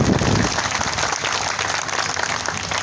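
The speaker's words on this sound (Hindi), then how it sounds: "चलो बजाओ ताली।" An audience at a BJP political rally in Shadhaura applauds, dense and loud steady clapping from a large crowd lasting throughout.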